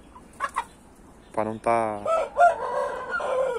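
A rooster clucks in short bursts and then gives a loud, close crow, with someone speaking Portuguese briefly around it.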